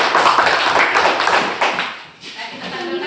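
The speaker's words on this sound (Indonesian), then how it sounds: "Tepuk tangan untuk kelompok 1." Classroom students clap for a presenting group, a brief burst of scattered hand claps and taps that fades out after about two seconds, with some voices in the room.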